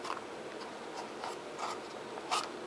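Paper being folded and rubbed into a glued box shape, soft close crinkles and scrapes in uneven short strokes, with a slightly louder rustle near the end.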